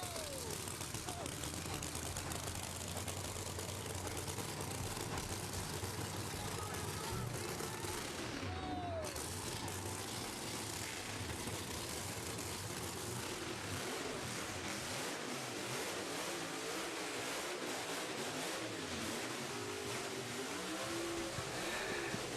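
Nitro drag racing cars at the Gulf Western Oil Nitro Champs fire up and rev, a dense continuous engine roar filling the whole stretch with a brief dip midway, crowd and speech faintly underneath.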